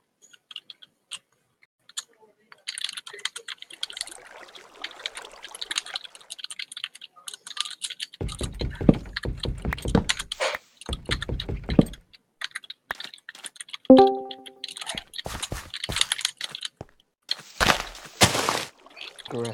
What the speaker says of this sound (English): Aggressive typing.